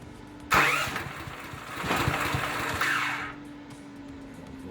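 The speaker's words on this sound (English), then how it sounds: "this generator just came in from the truck. So we're going to fire it." A propane generator starts up: a sudden loud crank and catch, then the engine revs roughly and settles into a steady mid-pitched run for a few seconds before dropping off, close to the microphone with no talk.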